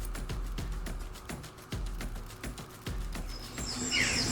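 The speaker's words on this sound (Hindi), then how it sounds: "ये चिड़िया का चहचहाने वाला," Bird chirping used as a sound effect for a cartoon story set in a green forest: a run of short, repeated tweets with sharper calls near the end, moderately loud and with no talk.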